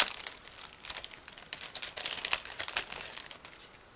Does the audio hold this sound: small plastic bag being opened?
yes